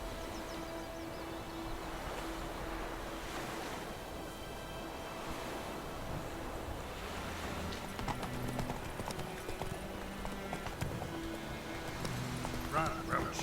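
A horse gallops in The Witcher 3, a steady, rhythmic clip-clop of hooves running throughout at moderate volume over ambient game sound.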